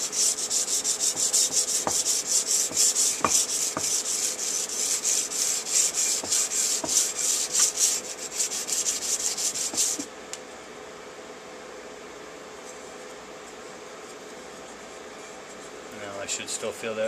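A Bolo machete blade is sharpened flat on a 600 grit abrasive. Steady, close rubbing and grinding strokes run continuously for about ten seconds, then stop, leaving quiet room tone.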